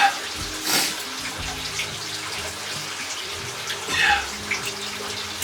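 Water sloshing and running through a flooded cave in the video game Journey to World's End, a steady wet wash with a couple of louder surges, and a brief spoken word over it.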